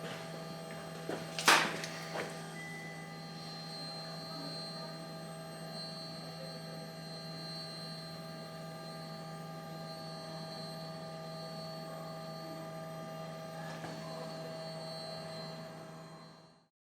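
Fuel system of an Evo X with new ID1050 injectors, pushing air through the rail: a faint, steady electric hum and whine throughout, with a brief clicking burst near the start and a soft one later.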